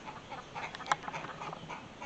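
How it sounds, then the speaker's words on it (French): Hens in a rural yard give faint, scattered clucks and short calls against wind noise, with one slightly sharper call in the middle. "j'ai entendu les poules"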